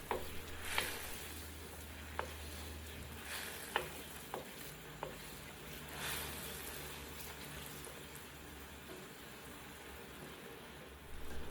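Chicken wings dropped into a caramelized brown sugar sauce in a pan, a quiet steady sizzle with a low hum beneath and a few sharp clinks and taps scattered through it.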